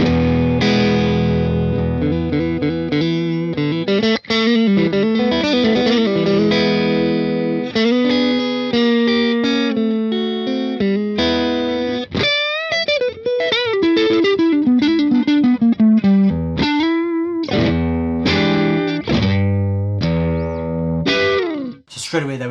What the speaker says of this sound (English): Straight away there we're getting into some nice bluesy breakup.